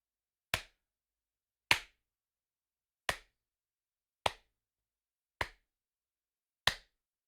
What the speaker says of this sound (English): Can I do a big clap?